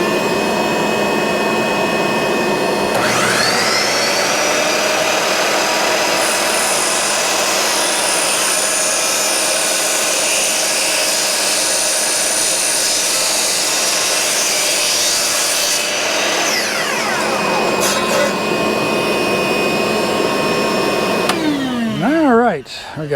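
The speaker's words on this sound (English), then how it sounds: "We're going to put this on the saw, and we're going to cut it down right on that mark" A loud power saw screams through aluminum for most of the stretch, a harsh sustained whine that winds down with a falling tone at the end.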